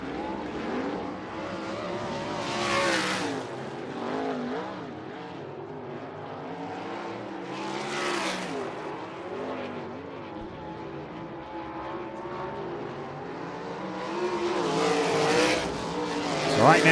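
USAC open-wheel race cars practicing at Ocala Speedway roar past in repeated waves, engine pitch rising and falling as each car approaches and recedes, moderately loud with continuous engine drone between passes.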